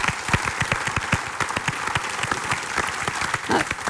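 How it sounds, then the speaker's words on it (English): A theater audience at the DeLaMar Theater in Amsterdam breaks into sustained applause for Timothy, many hands clapping in a dense, steady patter that holds loud and even throughout. "could I ask for some applause for Timothy as well?"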